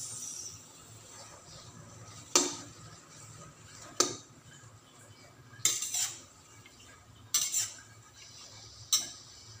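Kangkong stirred in a pan for a garlic and oyster sauce stir-fry, giving five sharp metallic utensil scrapes and clacks against the pan at irregular intervals over a low, steady background hum.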